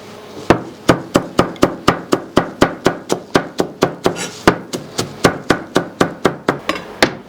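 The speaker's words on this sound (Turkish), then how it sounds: "Yarım demette maydanoz doğrayacağız." Half a bunch of parsley chopped with a knife on a cutting board for stuffed mullet: a steady run of around two dozen sharp, regular thuds, close up and prominent, with no voices.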